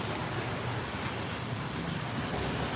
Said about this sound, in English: it's still pouring pretty good here